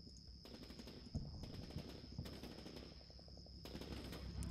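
Faint bursts of automatic machine gun fire come from a squad laying down suppressing fire in a Combat Mission Shock Force small-town battle, with several rattling volleys over a steady high tone.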